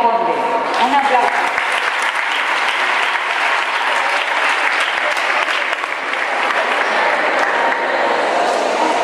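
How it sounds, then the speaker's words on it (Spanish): Applause from families in a school hall during a children's poetry recital fills the whole stretch, a dense, even clapping from a sizeable crowd. "Un aplauso."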